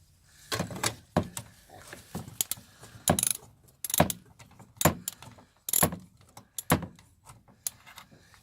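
Fasteners being tightened while fitting a fuel door on a Pontiac Trans Am, heard as a series of sharp, close clicks and ratcheting bursts spaced about a second apart, with quiet gaps between.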